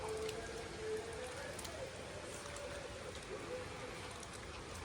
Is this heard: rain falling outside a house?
yes